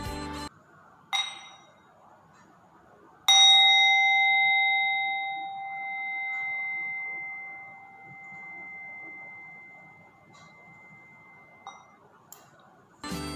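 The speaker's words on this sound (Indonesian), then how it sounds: "Teacher akan membunyikan lonceng kesadaran." A mindfulness bell is struck once in a quiet classroom, ringing out loud and clear with a long, slowly fading sustained tone, framed by brief soft knocks and rustles before and after.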